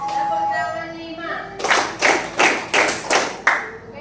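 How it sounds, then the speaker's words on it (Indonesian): A group claps out a rhythm pattern, several sharp unison bursts following a spoken call, loud and close in a room. "Tepuk 5. Tepuk tangan 2. Tepuk tangan 5."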